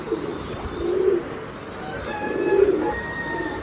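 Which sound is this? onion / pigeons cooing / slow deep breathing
pigeons cooing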